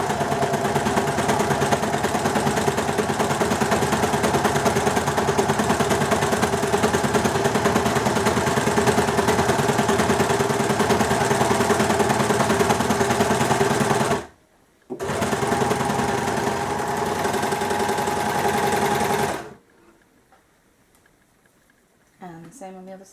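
An overlocker sews the seams of a tube skirt in a loud, continuous buzzing whir that runs for about fourteen seconds. A short pause follows, then another few seconds of stitching, and the clip ends with quieter handling sounds.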